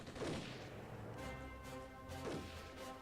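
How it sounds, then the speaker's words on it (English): Medium mortar fire in the wartime strategy game Armored Brigade: two muffled, distant booms roughly two seconds apart, each with a low thud and rumbling tail over a steady faint battlefield hum. "Medium mortar ready to fire."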